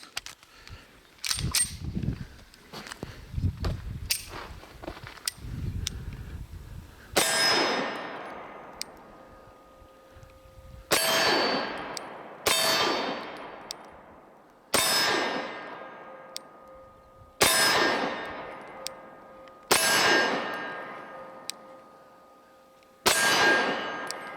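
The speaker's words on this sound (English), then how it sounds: "the Beretta 92 FS with the V-Crown ammo" Beretta 92FS pistol firing V-Crown ammunition: five loud, sharp shots evenly spaced about two and a half seconds apart, each with a ringing decay, after a stretch of softer handling clatter and clicks.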